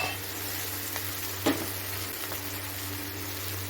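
Mini idli being stirred and sautéed in a pan for podi idli, a steady soft sizzle running throughout with a single brief clatter near the middle.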